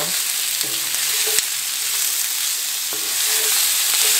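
Sausage sizzles steadily in a one-pot jambalaya over medium heat, with a continuous bright frying hiss and a few scraping stirs of a spoon against the pot, close and loud with no talking.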